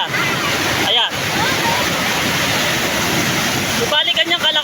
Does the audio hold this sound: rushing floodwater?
yes